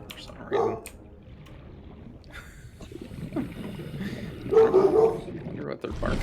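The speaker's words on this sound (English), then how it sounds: "I wonder what they're barking at." Household dogs bark in two short bursts, fairly close, with a person talking over the game audio and background noise.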